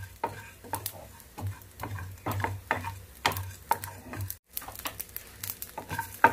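Ingredients for chithrannam fry in a pan, with a quiet sizzle broken by bursts of scraping and stirring at an irregular rhythm, heard close up with no talking.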